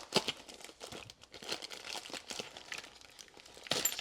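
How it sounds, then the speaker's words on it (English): A small knife slices through the tape and wrapping of a mail package, giving crisp crinkling and tearing bursts in an irregular run, close and alone. "So I'm gonna grab my little knife here and see if we can cut this open."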